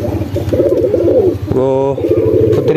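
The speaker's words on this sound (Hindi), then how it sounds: "चले कबूतर बाहर निकालते हैं" Pigeons kept by a pigeon fancier coo close by in low, throaty, repeated calls, with one longer, rolling coo in the middle.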